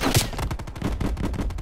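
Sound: gunfire in the video game Call of Duty Cold War

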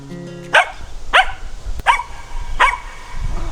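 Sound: dogs barking

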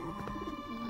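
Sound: two pigeons outside the window

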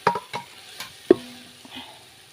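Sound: stirring frying biryani masala in a pan

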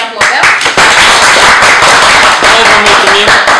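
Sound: audience applause

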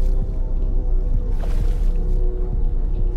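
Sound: wading through water in Escape the Backrooms video game

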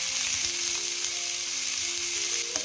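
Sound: chopped onion sizzling in hot oil in a frying pan

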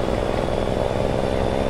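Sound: truck engine from the Lope engine sound pack in a driving video game

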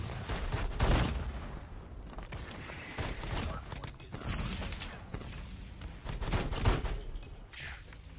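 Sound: LAG 53 gunfire in a Call of Duty video game

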